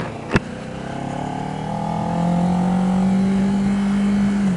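A motorcycle riding on a wet road, its engine droning steadily and rising in pitch as it accelerates, close and loud with wind noise, after a brief sharp click at the start.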